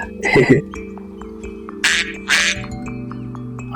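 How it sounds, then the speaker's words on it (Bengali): Several short duck quacks in separate bursts over a steady low hum, with a voice briefly audible near the start. "এই ভাই রিমন, হাঁসের দিকে তাকিয়ে তাকিয়ে কি দেখছো?"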